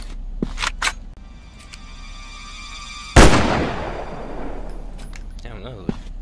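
A single sharp gunshot cracks out loud in a zombie shooter game, its burst decaying over a second or two, with a few small clicks and thuds before and after and no talk over it.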